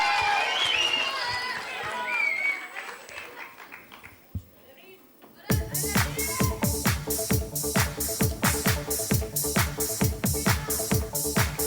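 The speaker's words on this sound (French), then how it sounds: "Merci d'accueillir sous vos applaudissements Soukaina Alaoui et Rim Khiyat." Audience at a school concert of francophone songs at Collège LFLA applauding and cheering the singers, a crowd of rhythmic, steady clapping that swells loudly after a quieter stretch of voices and cheers.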